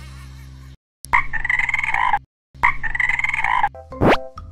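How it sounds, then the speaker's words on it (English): A cartoon frog croaks in two long, loud, rasping bursts separated by short silences, followed by a quick rising swoop. "F is for frog."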